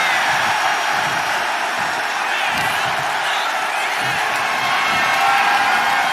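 A crowd roars at a WWE 2K25 wrestling match, a loud, continuous wash of cheering that holds steady from start to end without breaks.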